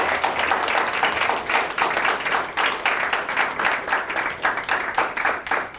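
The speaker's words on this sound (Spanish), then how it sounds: "Yo quiero un aplauso para las tres mujeres." Sustained applause from an audience at a feminist discussion gathering, dense rhythmic clapping filling the room for several seconds without talk.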